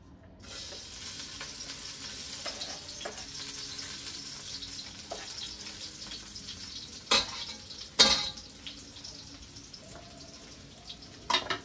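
Garlic frying in a pan for lechon paksiw made from leftover lechon kawali, a steady close hiss of sizzling oil with a few sharper pops and clatters, no talk.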